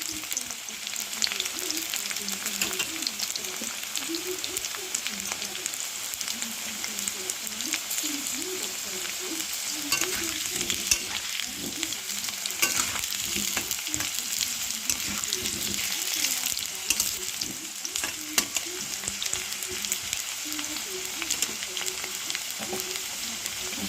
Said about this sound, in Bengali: আলুগুলো ভাজা ভাজা হচ্ছে, আমি থেকে থেকে নিয়ে নিচ্ছি।